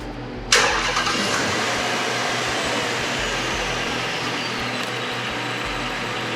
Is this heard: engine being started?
yes